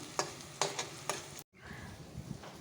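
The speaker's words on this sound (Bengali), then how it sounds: "একজন পেঁয়াজ ভাজছে" Onions frying in a pan, with a short burst of sizzling broken by three or four stirring scrapes and a momentary dropout.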